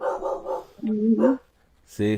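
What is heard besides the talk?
dog barking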